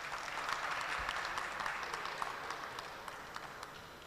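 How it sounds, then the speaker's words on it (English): An audience at a symposium on GMO foods applauds Dr. Joyce Brown, giving a fairly quiet, even patter of many hands that carries steadily from start to finish with a few crisper claps on top. "Please, can we give her a beautiful round of applause for her contributions?"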